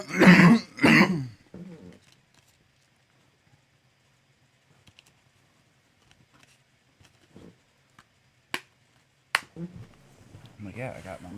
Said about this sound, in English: In case you guys didn't know about the cough.